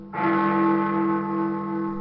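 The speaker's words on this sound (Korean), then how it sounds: "이때 런던에 빅벤의 종소리가 울리고" Big Ben in London strikes a single deep chime that rings out and sustains with rich steady overtones, heard alone and loud.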